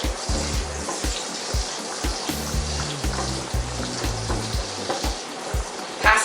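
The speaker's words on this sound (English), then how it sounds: "I'm still melting butter" Butter melts and sizzles in a pan, a close steady crackle with light stirring and clinking, and a few sharp ticks rising through it.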